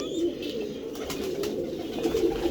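Pigeons cooing nearby, soft low throaty coos repeating in a loose rhythm over a faint background hum.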